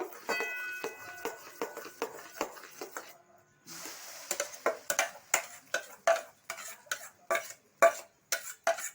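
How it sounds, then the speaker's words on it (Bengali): Ground chana dal paste stirred in hot oil in a pan, a steady series of sharp spatula scrapes and clinks against the metal, close and fairly loud, quickening into regular strokes after a brief pause. "এটা একটু নাড়াচাড়া করে করতে হবে। এমনি করে এটা নাড়তে হবে কিছুক্ষণ"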